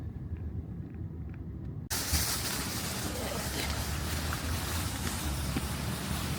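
A car engine idling while it warms up on a cold day, a steady low rumble heard from close by with broadband wind-like hiss, jumping louder after about two seconds and then holding even.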